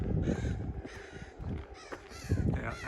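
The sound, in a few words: crow cawing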